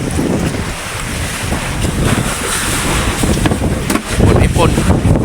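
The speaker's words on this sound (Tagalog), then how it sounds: "Malakas na ang habagat mga kabiwas oh." Strong southwest monsoon wind buffets a fishing boat at sea, roaring steadily into the microphone with waves washing around the hull, loud and continuous, with voices talking over it.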